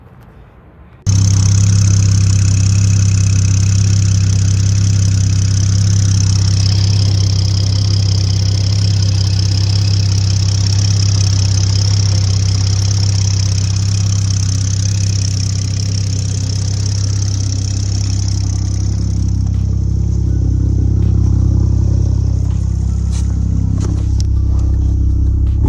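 A Toyota MK5 A90 Supra fitted with a 6870 big turbo kit starts after a moment of quiet, then settles into a loud, steady, close idle rumble that holds for the rest of the stretch.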